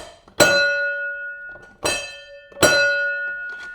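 The bell on a 1900 Winton 9HP car rings three times, bright, metallic and close, each strike ringing out and fading before the next.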